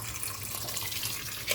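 Water pours steadily into a pressure cooker holding soaked rice for vegetable pulao, a continuous splashing, trickling stream heard up close with no talk.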